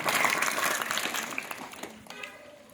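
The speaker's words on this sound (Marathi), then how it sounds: "विद्यार्थ्यांनी जोरदार टाळ्या वाजवून स्वागत करायचे" Students clapping to welcome guests at the opening of a school sports competition, a lively burst of crowd applause that starts strong and gradually thins out toward the end.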